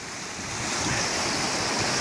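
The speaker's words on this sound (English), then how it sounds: "it's just the stream running into the river" Water rushes steadily where a stream runs into a river in the Scottish wilds, a dense, constant roar with some wind on the microphone, close and loud, with no voices.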